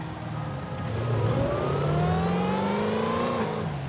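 A stock car with standard brakes drives in a racing game, its engine revving up with a rising, sweeping pitch as it accelerates. The engine is loud and close, and no talk is heard.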